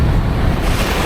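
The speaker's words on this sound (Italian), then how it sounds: "C'è un pochino di vento, ma dopo tutto è inevitabile in mezzo all'Oceano Atlantico" Wind and Atlantic surf on a Porto Santo beach, a loud rushing wash of waves and gusting wind buffeting the microphone, with no voices.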